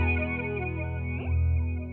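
An Alexander Pedals F.13 Neo effects pedal with its regen control turned up processes a sustained guitar tone, giving a stepped, pitch-bending repeat that sweeps upward near the end. The sound is steady and close.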